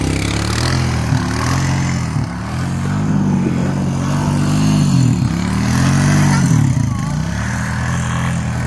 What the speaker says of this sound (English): here comes the side-by-side